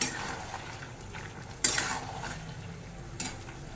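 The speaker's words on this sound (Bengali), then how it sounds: "দিয়ে দিচ্ছি ভেজে রাখা চিংড়ি মাছ আবার একটু নেড়ে নিচ্ছি" A spatula scrapes and stirs fried prawns through a black and white mustard paste in a pan for a Bengali pui chingri chochori. A soft steady sizzle runs underneath, broken by a few sharper metallic scrapes, close up with no voices.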